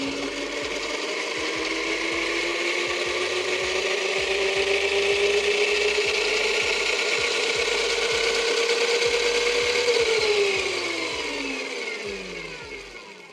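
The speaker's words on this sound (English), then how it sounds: "It's probably going to be like the far driver controller, where it's going to spin the rear wheel at all sorts of different speeds and potentially even go reverse" The electric motor of a dirt bike spins the rear wheel during controller calibration, a whirring whine that slowly rises in pitch, holds, then drops away near the end, with rhythmic ticking underneath.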